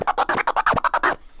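Rapid DJ turntable scratch with a triple click flare, the record's swiping tone sliced by the crossfader into tight stuttering bursts, close and punchy, cutting off cleanly into near silence at the end.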